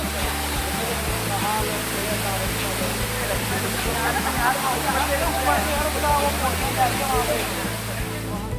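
Bhagsunag waterfall in Dharamshala pours in a steady, loud, dense roar of rushing water that holds constant throughout, with no voices on top.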